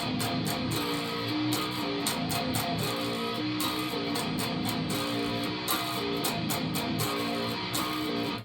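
Heavily distorted electric guitar chugs a slowed riff in groups of downstrokes, with brief gaps between bursts, loud and close, no talking over it.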